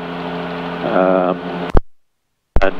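Magni M24 gyrocopter engine in a powered descent at about 4,200 rpm, a steady broadband drone running under a voice in the cockpit, then cutting to silence before returning briefly at the end.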